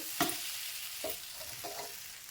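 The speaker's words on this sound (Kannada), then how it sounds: "ಆಗಾಗ ಈ ಥರ ತಿರುಗಿಸ್ಕೋತಾ ಇರಬೇಕು ಚೆನ್ನಾಗಿ ರವೆ ಎಲ್ಲ ನೀಟಾಗಿ ಬೇಯಬೇಕು" Semolina (rava) roasting in a pan for jackfruit laddu is stirred with a few short scraping strokes and a faint, steady sizzle.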